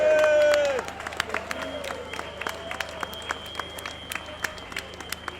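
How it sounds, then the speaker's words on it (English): A crowd at a street protest march against lockdown in Birmingham city centre breaks into scattered clapping and cheers. The sound rises briefly after a loud amplified voice, then settles into steady, moderately distant applause. "can we give West Midlands Police a round of applause?"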